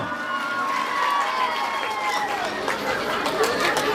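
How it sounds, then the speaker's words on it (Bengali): A crowd at a golden jubilee function claps for an invited guest, loud and busy, mixed with chatter, cheering and children's voices rising around the applause. "একবার জোরে হাততালি স্যারের জন্য।"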